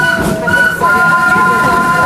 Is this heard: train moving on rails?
yes